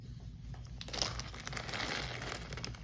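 Dense crinkly rattling of many small glass beads pouring from a bag in a steady stream, close by, building after a brief quiet start.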